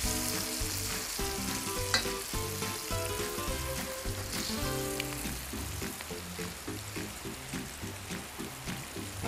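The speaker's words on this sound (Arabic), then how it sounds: "راح يتقلى من كل الجهات" Fish fries in a hot pan with dense, continuous sizzling and crackling, steady and close, with rhythmic stirring or turning sounds throughout.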